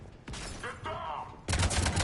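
Bursts of gunfire in the video game Mass Effect 3 erupt in the second half, loud and dense after a stretch of combat noise, with a voice calling out over the action.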